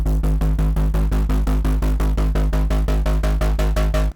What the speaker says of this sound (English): But the drop bass is very simple.